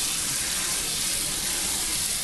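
Tap water runs steadily from a faucet while pearl barley is rinsed under it to wash off starch, a continuous, fairly loud hiss and splash with no talking.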